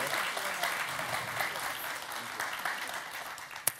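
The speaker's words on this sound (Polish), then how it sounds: "Gorące brawa." A hall audience claps warmly at a Polish award and diploma ceremony, a steady dense patter of hands lasting several seconds, with faint voices under it and a sharp knock near the end.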